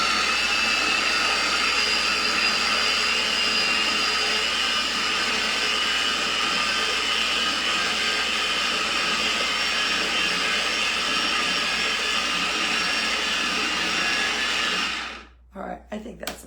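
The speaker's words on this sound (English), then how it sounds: "I wanna press the on button, it'll get noisy. For about 20 or 30 seconds is all it's gonna take to puree this completely smooth" A blender or food processor purees dip ingredients until smooth in a home kitchen, a loud steady whirring motor roar running nearly continuously, then cutting off abruptly near the end with a few brief clunks.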